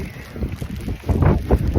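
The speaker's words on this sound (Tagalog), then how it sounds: "Grabe yung hangin." Strong wind gusts on a cold, rainy 4-degree morning in Croatia, heard as irregular low buffeting and rushing that swells louder toward the end, close to the microphone with no speech.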